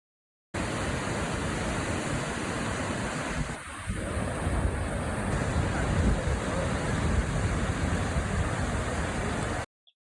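Rushing water roars in a dense, constant wash close by from a waterfall in Rocky Mountain National Park, steady throughout before cutting off.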